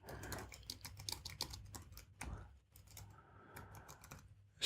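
Close, quick typing on a computer keyboard, with bursts of crisp key clicks and brief pauses between them, heard alone and fairly quiet.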